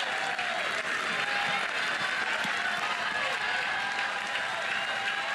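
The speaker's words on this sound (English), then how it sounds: "Crowd on its feet." Stadium crowd at a college softball game between Oklahoma and Alabama cheering and applauding steadily, a dense, continuous roar of clapping and shouting that holds at an even level throughout.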